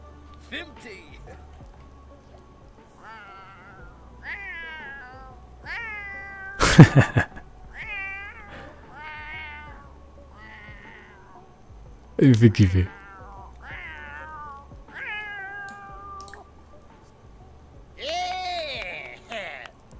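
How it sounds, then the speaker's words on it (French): A cat in The Sims 4 makes a long series of rhythmic meows in a rap-like pattern over a steady backing beat. Two sharp bursts break in, and a voice speaks briefly partway through. "T'as jamais vu un chat qui fait du rap?"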